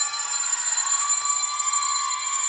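A bell rings steadily and loudly at a high school swimming meet to mark the final 50 lap of a race, a sustained metallic ringing with no voices over it.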